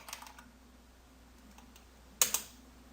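Soft keyboard taps come in a few scattered keystrokes, then a louder quick pair of clicks near the end, in a quiet room.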